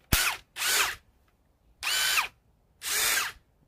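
A new Ryobi PBLID02 impact driver fitted with a paddle bit, showing possible collet wobble, runs in four short, loud, close bursts separated by silent pauses, with no talking.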